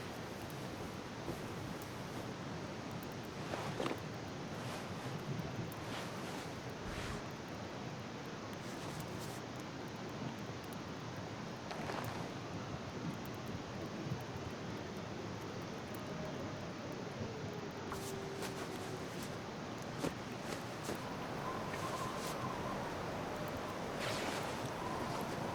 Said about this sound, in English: Gotten windy already. All of a sudden.